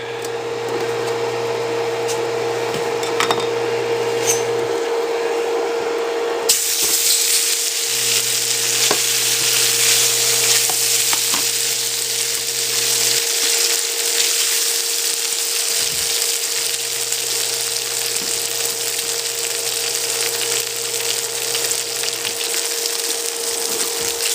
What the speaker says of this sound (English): up the butter in a pan so I can brown these suckers